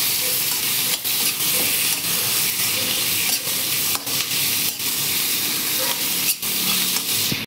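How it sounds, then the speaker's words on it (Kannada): Tomato, tamarind and coriander leaves sautéing in hot oil, a steady close sizzle and hiss with spatula scrapes and stirring clatter recurring every second or so. "ಕೊತ್ತಂಬರಿ ಸೊಪ್ಪು ಇಷ್ಟನ್ನು ಹಾಕ್ಕೊಂಡು ಎಣ್ಣೆಯಲ್ಲಿ ಬಾಡಿಸ್ಕೋಬೇಕು ಚೆನ್ನಾಗಿ"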